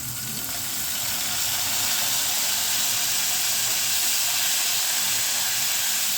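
A spoonful of vinegar hits golden fried garlic in a hot pan, setting off a loud, steady steamy hiss that swells slightly and holds evenly throughout.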